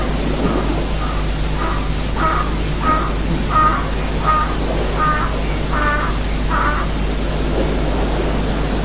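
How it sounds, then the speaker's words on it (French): A crow cawing outdoors, a row of repeated harsh calls at a steady pace, moderately distant over a constant hiss of wind or background noise. "C'est la première fois que je vois un oiseau comme ça."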